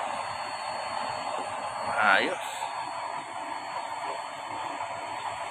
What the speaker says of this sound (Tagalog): pag nilalakas yung blower, lakas ng apoy, oh.